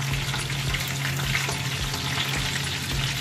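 Chicken pieces frying in oil for Arabian chicken majboos: a dense, even bubbling sizzle with a low steady hum beneath, constant and close, without any talking.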